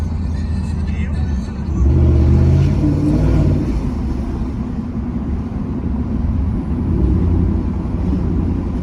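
A 2018 Ford F150 pickup truck engine while driving, a low steady rumble heard from inside the cab that swells briefly as it pulls, with people talking over it.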